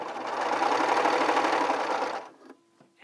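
Baby Lock Celebrate sewing machine stitching fabric to gather it, a steady rapid whirring hum of close stitching that stops after about two seconds, followed by a few faint clicks.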